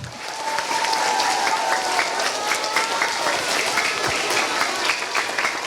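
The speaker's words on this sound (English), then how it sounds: "Let's give them a clap one more time." An elementary school audience at a third-grade Veterans Day performance claps steadily for the student soloists, a dense, sustained round of applause heard close and alone, with a faint tonal trace early on.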